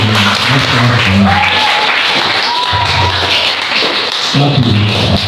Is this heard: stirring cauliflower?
no